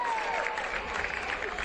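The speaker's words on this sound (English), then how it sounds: "Maddock deserves a round of applause" Spectators at a 4A high school baseball tournament game between Mountain Crest and Snow Canyon applaud as pitcher Riley Maddock leaves the game, a brief, fairly faint patter of clapping from the stands.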